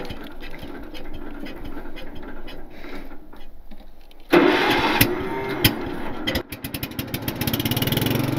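A pickup truck engine cranks over and catches, a quiet rumbling stretch giving way to a loud start and a steady, pulsing idle with mechanical clatter, heard close up without speech.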